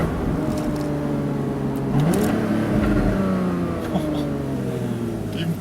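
A 2012/2013 Porsche Boxster S (981) with the PDK gearbox drones steadily, then flares sharply in revs on a quick downshift and settles at a higher pitch, heard close and loud.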